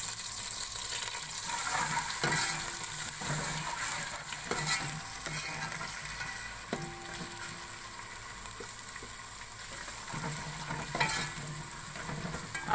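Garlic paste and whole garam masala fry in a pan, a steady soft sizzle with occasional stirring scrapes, close and unbroken by talk.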